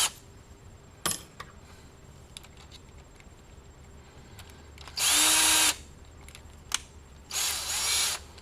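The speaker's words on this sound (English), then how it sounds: "let's go ahead and drill her out and see what we got." Power drill boring a mounting hole in a 12-volt 30-amp power supply on a workbench, with two loud whirring bursts of about half a second and one second, plus scattered clicks and handling knocks between them.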